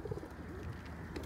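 Pet pigeons or doves kept at home cooing softly in low, repeated calls, fairly near and steady, with no talk over them.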